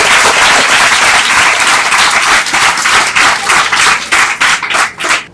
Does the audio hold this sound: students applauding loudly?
yes